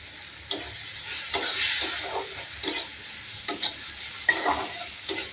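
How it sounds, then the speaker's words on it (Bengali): Eggs going into a pan of cooked-down spiced masala for an egg curry, with a low sizzle running throughout and scattered clinks and scraping stirs at an irregular pace. "তো মশলাটা এই যে কষা হয়ে গেছে, এখানে আমি ডিমটা দিয়ে দিই।"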